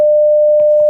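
Steady, unbroken telephone tone, like a dial tone after a call is hung up, sounds loud and clear for just under a second. It is alone, with no talk.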